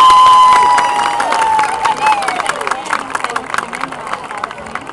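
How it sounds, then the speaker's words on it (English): Crowd applause and cheering for a high school marching band at a football halftime show, loud at first and then thinning into scattered claps, with an announcer's amplified voice over it. "Another big round of applause, if you will, for the Clinton High School Marching Band."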